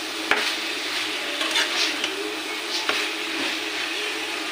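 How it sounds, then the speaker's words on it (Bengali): Taro stolons and tiger prawns stirred in a hot pan give a steady close sizzle with a few scraping stirs and light utensil knocks against the metal. "নাড়াচাড়া দিয়ে নেব।"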